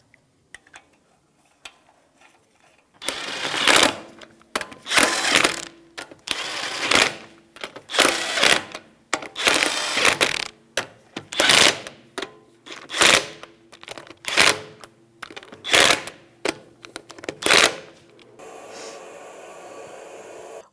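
Wheel lug nuts on a 2007-2017 Jeep Compass being snugged with a 19mm socket in a star pattern: a series of loud, close ratcheting bursts separated by short pauses, roughly a dozen in a row.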